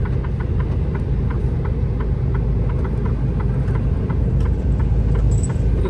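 Heavy trucks sit and crawl in congested traffic on the Jeddah to Riyadh road in Saudi Arabia, a steady loud engine rumble with a faint regular ticking on top and no voices.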